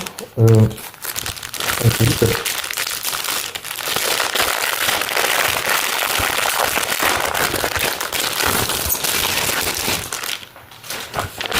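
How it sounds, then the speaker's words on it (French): Plastic packaging of a new LEGO minifigure being crinkled and torn open, a sustained dense rustling and crackling that fills the clip, with brief speech near the start. "Et on va déballer ensemble."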